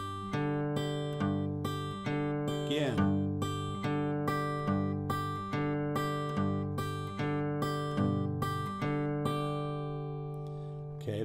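Acoustic blues guitar fingerpicked with a steady alternating bass pattern and first-string notes plucked between each bass note, an even rhythmic run of ringing notes, close and clear, with one brief spoken word.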